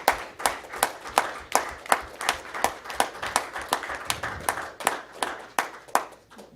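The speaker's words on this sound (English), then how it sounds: "Give them a round of applause." A small crowd at a school board meeting claps for high school athletes in a steady, rhythmic patter of distinct hand claps, close and fairly loud, keeping an even beat throughout without talk.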